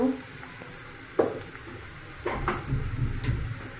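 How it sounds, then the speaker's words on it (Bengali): Onion frying in a pan for a koi fish dish, a soft sizzle with a few sharp clinks and scrapes of a utensil against the pan, fairly quiet and close, rising slightly toward the end. "এখন আমি কয়েক সেকেন্ডের মতো পেঁয়াজটা ভেজে নিয়েছিলাম"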